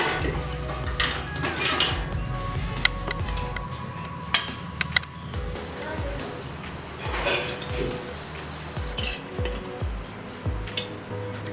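Cooked ragi semiya being lifted out of a steamer, with metal dishes and utensils clinking and clattering repeatedly at close range over a low background rumble, no voices.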